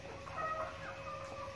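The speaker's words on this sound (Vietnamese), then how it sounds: "Đây là gà chăn nuôi nhốt chuồng các bạn này." Farm chickens kept in a coop cluck softly and steadily, a low murmuring flock heard from close by with no voices over it.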